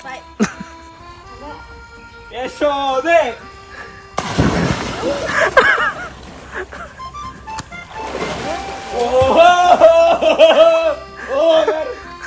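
Someone jumps into a cold stream, a sudden loud splash midway that is followed by churning water, with talking and laughter before and after.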